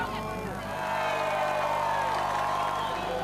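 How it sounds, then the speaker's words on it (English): Rally spectators in Finland cheering for driver Märtin at a 2005 World Rally Championship stage: a broad crowd roar with whoops and shouts, swelling slightly and then holding, heard from a moderate distance. "He may have had the biggest cheer of the night"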